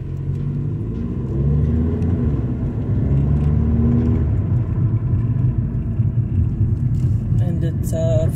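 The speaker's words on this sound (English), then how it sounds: "I thought you might like to see me driving by the harbor. I have the sunroof open." A car drives along a harbor with its sunroof open, a steady low engine and road rumble running throughout with wind noise, a person talking over it and a brief clatter at the end.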